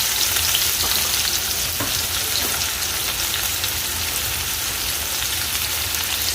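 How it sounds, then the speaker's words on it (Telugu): Sliced onions and green chillies sizzle steadily in hot oil in a pan, a loud, even frying hiss that continues throughout without talk. "దీనిలోని ఉల్లిపాయలు, పచ్చిమిరపకాయలు వేస్తాను అన్నమాట."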